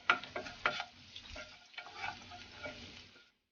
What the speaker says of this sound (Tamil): இப்ப நல்லா வதக்கி விட்டுக்கலாம்.